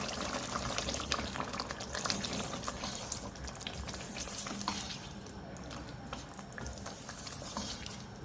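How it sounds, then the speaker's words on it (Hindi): Mutton pieces fried bhuna-style with whisked yogurt in a pan give a steady, dense sizzle with bubbling and stirring scrapes. The sound is close and continuous for the whole stretch, with no talking. "अब इसकी मैं भुनाई कर दूँगी।"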